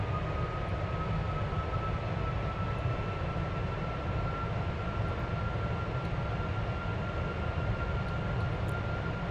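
Four engines of a Boeing 747-400 in Flight Simulator X power up in a steady, even roar with a faint high whine running through it, holding at constant loudness with no voices.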